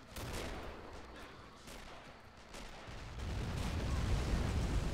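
Sniper and battle gunfire during a British ambush in Men of War: Assault Squad 2 with the Robz Mod, dull rumbling shots and distant explosive booms rolling on, growing heavier and denser toward the end.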